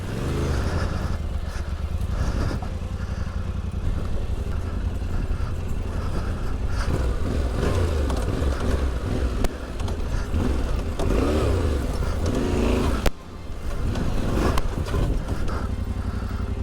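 Motorcycle engine running and revving through a ride across desert terrain, a steady loud drone with throttle surges and clattering bumps, a brief cut near the end before it picks up again.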